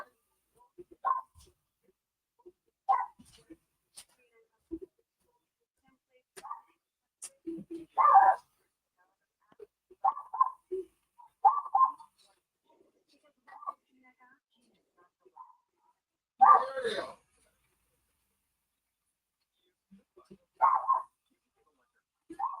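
A dog gives scattered short, muffled barks and whines at irregular intervals, faint and sparse against near silence, with occasional quiet sounds between them.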